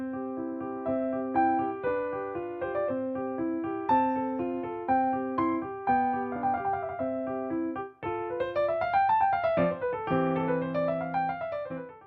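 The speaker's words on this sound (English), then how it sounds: "This piece is the first movement of a piano sonata by Wolfgang Amadeus Mozart," Piano playing the opening of the first movement of Mozart's Sonata facile, a clear treble melody over steady broken-chord accompaniment, then brisk running scales, moderately soft and close with no voices.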